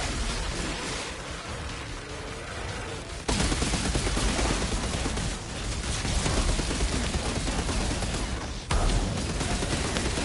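Ice turrets firing steadily at enemies in the Outriders shooter, a Technomancer's deployed turrets hammering away in a dense, continuous rattling barrage with loud bursts and no speech.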